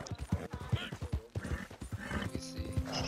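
Horse hooves clip-clopping in Red Dead Redemption 2, a run of quick, fairly close thuds mixed with faint game sounds while someone talks over them.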